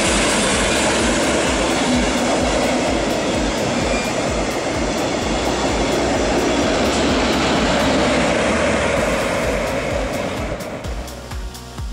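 A train rumbles loudly through Heilbronn main station, a continuous heavy rolling roar of wheels on track that thins slightly as it passes at the end.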